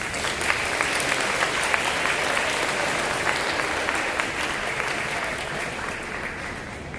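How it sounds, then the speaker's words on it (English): Loud, continuous applause from a crowd of students and families at a high school recognition event, dense clapping that stays even and full for the whole stretch. "So give yourselves a round of applause."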